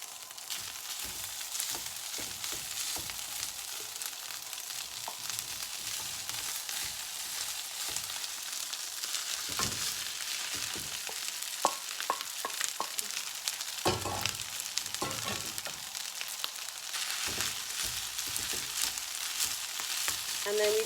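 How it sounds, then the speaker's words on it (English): Vegetable rice with onions and cumin seeds fries in a pan for stuffed peppers, giving a continuous close sizzle while a utensil stirs and scrapes it in scattered knocks throughout, no one speaking. "all we're going to do is put in the vegetable rice that we created earlier, and we're just going to stir it along"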